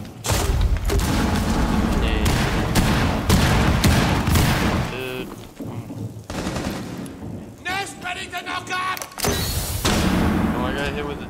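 Video game combat with rapid machine-gun bursts and a grenade blast, loud dense gunfire rolling through most of the stretch with heavy booming hits, and a player's voice talking over the action.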